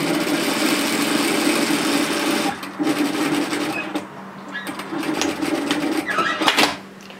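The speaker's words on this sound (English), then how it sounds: "sew through. And then sew all the way down to the hemline" A sewing machine runs steadily and close, stitching a seam of a puff sleeve top down to the hemline, then pauses and restarts in short whirring bursts with a few light clicks.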